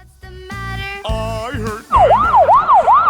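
A toy fire engine plays a few electronic tones, then switches to a loud, rapidly rising and falling wail that repeats several times on its own.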